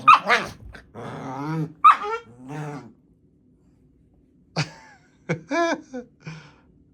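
Several dogs bark and growl in short bursts with pauses between, loud and close, and a person talks at the start.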